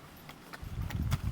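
Horse hooves clip-clop at a stables, a few faint, evenly spaced knocks over low background rumble.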